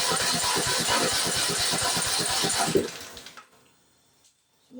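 A Craftsman engine with a freshly replaced carburetor cranks in a rapid, even rhythm for about three seconds without catching, then cuts off into near silence.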